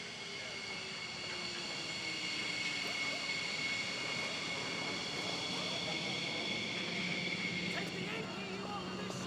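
Fighter jet engine roar at Nellis during a Red Flag exercise, a left-engine malfunction emergency, a steady loud drone with a whining tone, with radio talk over it.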